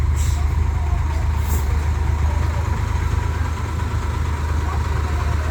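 A tractor engine idles steadily with a hay baler with steel wheels attached, giving a loud, continuous low diesel rumble that holds level throughout.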